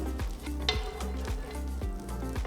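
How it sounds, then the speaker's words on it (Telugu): Butter sizzles on a hot tawa while being spread for Korean street toast, a steady close hiss broken by rhythmic scraping and light metallic clinks of a spatula. "ఇప్పుడు తవా వేడైన తర్వాత కొద్దిగా బటర్ వేసుకుని తవా మొత్తం సమంగా స్ప్రెడ్ చేసుకోవాలి"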